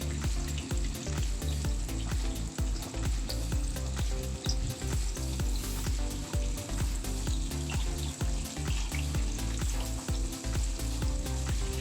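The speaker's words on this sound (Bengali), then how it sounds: "একটু ভাজা ভাজা করে নেব" Chopped capsicum, tomato and green chili frying over a medium gas flame, a steady sizzle with rhythmic tapping and scraping as the pan contents are moved about, no talk.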